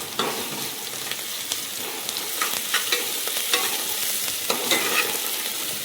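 Crushed, finely chopped garlic sautéing in a pan for dal khichdi, a steady close sizzle and frying crackle with occasional scrapes of stirring throughout, no voices.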